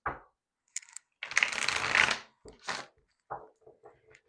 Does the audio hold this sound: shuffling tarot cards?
yes